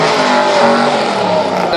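A modified race car's loud, continuous engine roar with a rough, buzzing tone fills the whole moment during a super lap, close and intense, with crowd noise mixed in beneath it.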